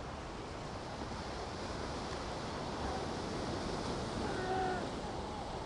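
Ocean surf breaking on a shore in a steady broadband wash, with a slight swell of a wave set near the end; wind noise blends in and no one speaks.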